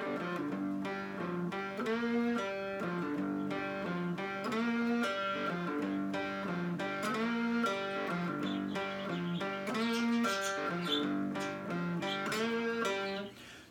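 Fretless three-string cigar box guitar playing a slide-style blues riff, steady plucked notes moving between low and high G, close and clear, solo with no voices.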